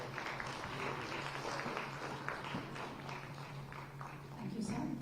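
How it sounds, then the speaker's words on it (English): Round of applause from a seated audience at a government MoU signing ceremony for a semiconductor and display fab, welcoming the Chief Minister; steady, moderately loud clapping fills the hall with a low hum underneath, swelling slightly near the end. "Let's give a big round of applause."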